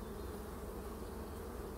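Honeybees buzz steadily around a beehive on a sunny day, a dense, continuous drone of many insects close by with no voices.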